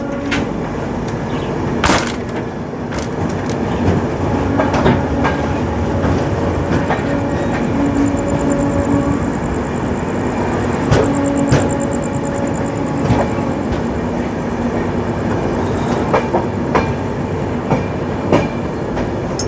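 Puri–Sealdah Duronto Express rumbling steadily along the rails, heard from inside a first class cabin, with continuous wheel clatter, occasional sharp clicks over joints and a faint high whine partway through.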